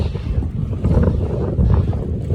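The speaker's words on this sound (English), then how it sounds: "really strong wind coming in this direction" Strong wind buffets the microphone during an ElliptiGO ride along La Rambla, a loud, steady low roar that swells slightly midway, with no talking.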